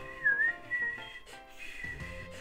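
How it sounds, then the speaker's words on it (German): A melodic whistled tune from the video game Pokémon SoulSilver, rising and falling notes over soft game music, clear and close, with no talking. "Ich war gerade dabei, ein wenig Pfeifen zu üben"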